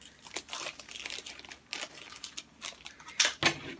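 Crinkly plastic packaging of a Trolls movie toy being torn open by hand, a string of close, uneven rustling and crackling bursts with sharper crunches near the end, no talking.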